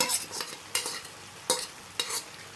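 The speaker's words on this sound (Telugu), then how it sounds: "ఇప్పుడు మంచిగా కలిపేస్తున్నా" A spoon stirs potato kurma with salt, chilli, spices and finely chopped coriander in a pan, four distinct scraping strokes in a slow, even rhythm over a faint sizzle.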